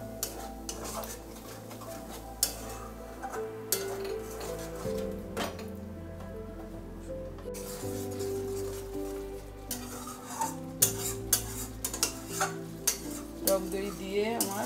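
Sour curd stirred into masala in a pan over low gas: a spoon scrapes and clinks against the metal in irregular bursts over a soft sizzle, with quieter pauses and no voices.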